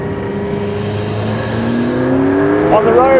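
A McLaren P1 engine firing up and revving, a rising, tonal engine note that climbs steadily in pitch and loudness, heard close over a few seconds.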